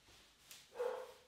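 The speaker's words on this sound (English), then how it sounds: "my dog is losing his mind over the mailman." A dog barking at the mailman gives one faint, distant bark after a soft click, muffled and brief against a quiet background.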